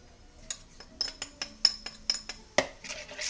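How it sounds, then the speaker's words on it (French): A utensil stirs and scrapes a small bowl of olive oil, coriander and spices for a fish sauce, giving a quick run of close, light clinks and taps with a sharper knock near the end. "Je vais mélanger l'ensemble."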